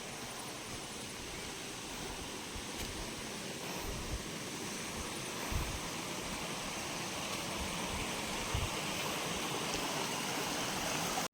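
Water rushes steadily at Dharagiri Falls in Jharkhand, a continuous broadband wash close by with a few soft thumps, holding even throughout without voices.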